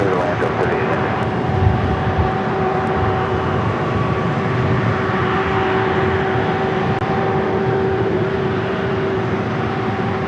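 An Airbus airliner on approach to land at LAX gives off a loud, steady jet engine roar with a sustained tonal whine, while radio voices talk over it the whole time.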